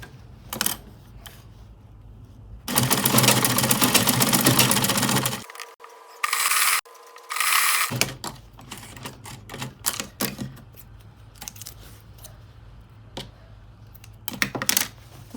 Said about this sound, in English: I'm just going to sew a straight line.